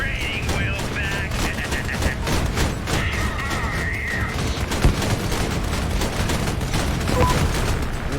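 Gunfire from armored vehicles in the video game Crossout, a dense, loud barrage of shotgun blasts and rapid shots layered over rumbling engines and mechanical clatter, with occasional booms.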